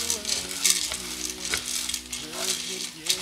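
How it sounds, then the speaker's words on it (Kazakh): Macaroni frying over high heat in a pan gives a soft, continuous sizzle, broken by a few light scraping clinks as it is stirred, all close by. "бұндағы макаронымыз сарғайып, қызарып бастағанға дейін қуыруды жалғастырамыз"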